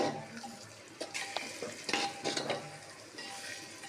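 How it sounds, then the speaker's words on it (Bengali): Marinated chicken pieces fry with onions in a pot for spicy desi handi chicken, turned over with a spoon as clattering stirring bursts sound over a steady sizzle. "ভালো করে এপার ওপার করে নেড়ে নেব"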